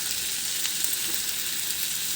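Cumin seeds fry in hot oil alongside cabbage with a little turmeric, giving a steady, even sizzle that stays bright and constant throughout, close by with no voices over it.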